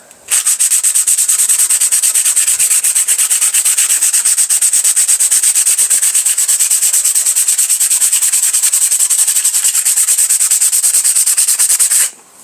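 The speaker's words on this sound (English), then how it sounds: "So just keep sanding at it" Steady, continuous hand sanding with P120 grit sandpaper on an old Mamod SR1 steam roller model during restoration, a close, loud, even rubbing hiss that runs unbroken for the whole stretch with no talk.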